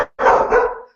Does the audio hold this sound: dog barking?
yes